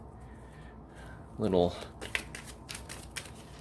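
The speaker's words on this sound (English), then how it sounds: "I'm also going to do a quick shuffle." Trading cards being shuffled by hand, a short crisp riffle burst followed by lighter scattered card flicks, close up, with a brief spoken word over it.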